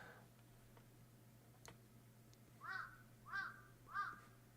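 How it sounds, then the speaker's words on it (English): Three distinct crow caws from the Famicom Detective Club video game, evenly spaced over a low steady hum, with a few faint ticks before them. "you got a crow sound effect and everything"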